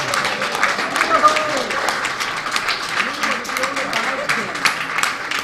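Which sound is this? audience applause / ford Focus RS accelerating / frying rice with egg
audience applause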